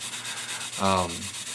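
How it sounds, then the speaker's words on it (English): A sanding stick rubs back and forth over a ghost seam on a plastic 1/350 scale Oscar-class submarine model, a steady close scratchy hiss in even strokes that briefly grows louder and harsher midway. "all I'm doing here is just sanding this down"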